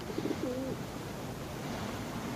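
Pigeons coo softly in a couple of short, soft phrases against a steady hiss of background noise.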